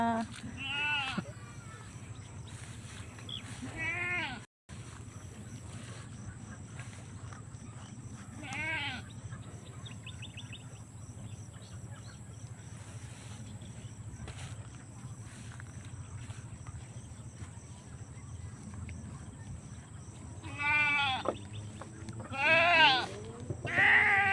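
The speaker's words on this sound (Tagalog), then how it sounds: "Silong na ni Boss William yung mga kambing. Isisilong na niya." Goats bleat several times, some near and loud, others farther off, over low ambient noise with occasional faint voices.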